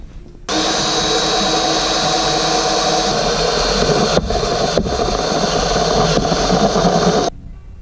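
Unscrewing a part during a SIKKY hydro e-brake install on a BMW E30: one steady, loud, close whirring power-tool run of about seven seconds, starting and stopping abruptly, with no talking.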